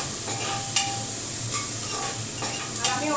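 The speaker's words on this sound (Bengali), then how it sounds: "বাকিটাও পেঁয়াজগুলো দিয়ে দেবো, দিয়ে ভাজা ভাজা করবো নুন দিয়ে।" Onions frying with salt in a little oil, giving a steady hiss with a few stirring clicks and scrapes in the pan, close by and without talk.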